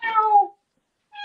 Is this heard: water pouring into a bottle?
no